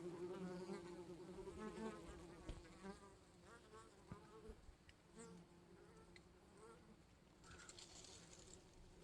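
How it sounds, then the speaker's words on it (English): A honeybee swarm fanning at the hive entrance makes a steady, close buzzing hum with wingbeat whine throughout, while a person talks quietly over it. "That one's fanning, cooling the hive."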